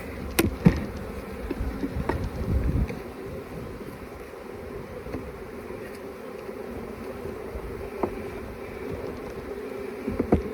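Honey bees hum in a steady, low buzz around an open hive with a drone-laying queen or laying worker, with occasional handling knocks and light wind noise close by.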